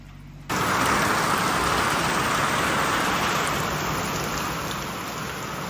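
Heavy rain suddenly swells into a loud, constant hiss after a brief quieter moment, then continues steadily without letting up.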